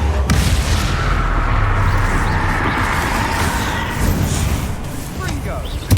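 Booming blasts from the Confringo explosion spell in Hogwarts Legacy roll through a dense, continuous wash of game noise and music, with a spoken voice running over much of it.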